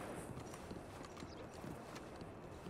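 Horse hooves clip-clop steadily in Red Dead Redemption, a continuous run of close, fairly quiet hoofbeats over a busy game background with no talk.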